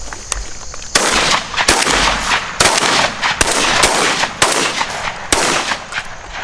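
Shotguns firing during a dove hunt outdoors, a string of loud sharp blasts, several in quick succession, each followed by a short decay.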